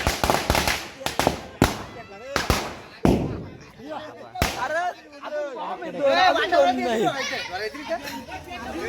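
Diwali firecrackers set off in a village celebration, several sharp loud bangs in quick succession over the first few seconds, followed by excited voices of people talking and shouting nearby.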